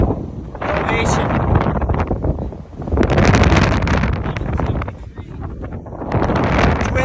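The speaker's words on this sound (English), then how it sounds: "It's kind of windy up here." Strong wind buffeting the microphone at a hilltop lookout on Isle Royale, loud roaring gusts that rise and fall in waves, swelling and easing every couple of seconds.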